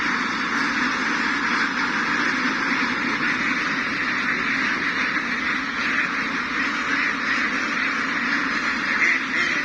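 A flock of RTL Itik ducks quacks steadily and densely throughout, a continuous chorus of many birds close by with no pauses.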